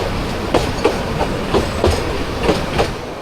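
The Dolonchapa Express runs on rails between Santahar and Rangpur in Bangladesh, its wheels beating a steady clickety-clack rhythm over a constant rolling rumble heard from inside the carriage.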